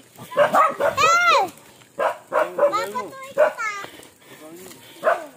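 Several sharp dog barks and yips ring out close by in quick bursts, mixed with people talking.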